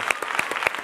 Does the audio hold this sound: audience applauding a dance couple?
yes